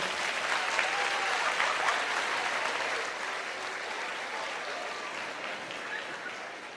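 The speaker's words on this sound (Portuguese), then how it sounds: "Uma salva de palmas." A congregation at a church service breaks into steady applause, a continuous wash of many hands clapping that holds fairly even before easing slightly toward the end.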